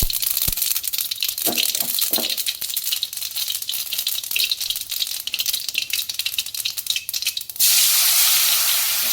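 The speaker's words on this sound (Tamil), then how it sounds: "எண்ணெய் சூடாகிட்டுது. கடுகு போடுறோம்." Mustard seeds dropped into hot oil while preparing amla pickle, crackling and popping in dense irregular bursts over a sizzle, ending in a steady frying hiss, with no talk.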